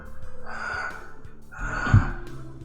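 A voice imitates heavy breathing in two long, raspy breaths, near and fairly loud, the second ending in a harsher gasp.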